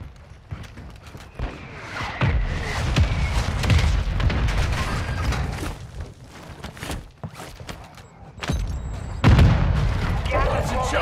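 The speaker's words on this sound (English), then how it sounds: "Hostile mortar strike incoming." Mortar strike explosions in Call of Duty: Modern Warfare II, booming impacts scattered amid battlefield noise and gunfire, with voices talking over the action.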